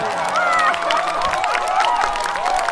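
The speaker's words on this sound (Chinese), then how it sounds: "掌声送给这2个" Studio audience at a comedy show applauds and cheers for two contestants, a steady dense wash of clapping and crowd noise with voices mixed in throughout.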